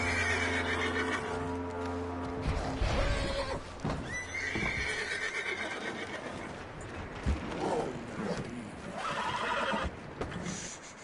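A horse whinnies in Red Dead Redemption 2, a loud drawn-out neigh standing out near the start, followed by clip-clopping hooves and small mechanical clicks under a busy game soundscape.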